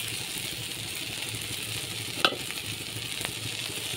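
Ghee hits cabbage frying in a pan, raising a constant hiss of sizzling with one sharp crackling burst partway through and a lighter pop after, close and unaccompanied by talk.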